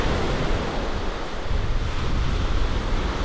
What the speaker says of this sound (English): these teeny little waves are deceptively strong